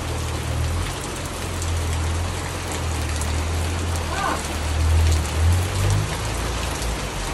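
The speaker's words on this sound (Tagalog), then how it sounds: "At syempre ulan lang yan," Steady rain pours down outdoors in a provincial village, a dense continuous hiss of drops on surfaces over a low rumble, with faint voices underneath.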